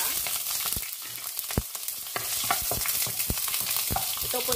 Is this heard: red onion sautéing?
yes